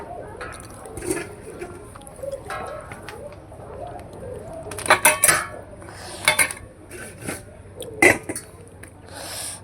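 Utensils clink and scrape on a plate while someone eats rice with ghugni, with scattered sharp taps that grow louder and more frequent midway, over a quiet room background.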